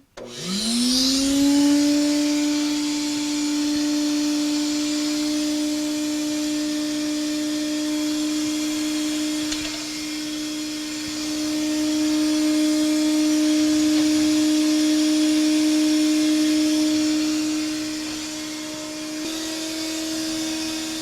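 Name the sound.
vacuum system for woodturning lathe switched on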